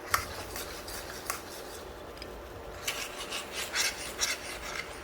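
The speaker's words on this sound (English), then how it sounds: "keep on scraping from the kadhai and also from the bottom" A utensil scrapes and stirs milk across the bottom of a kadhai in quiet, rasping strokes, some sharper than others, coming in irregular bursts with no talk.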